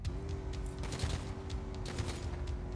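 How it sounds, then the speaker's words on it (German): Rapid gunfire from a weapon held out of a car window in Grand Theft Auto Online, a dense, continuous burst of shots layered over a steady engine hum throughout. "Ja, bei mir fliegen die Schüsse aber hinten raus."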